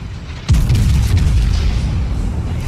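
Secondary guns of the battleship Massachusetts firing in World of Warships: a sudden heavy boom followed by a dense, rolling barrage of rumbling gunfire that stays loud, with no talk.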